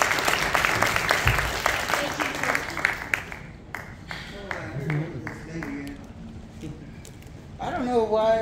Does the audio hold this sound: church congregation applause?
yes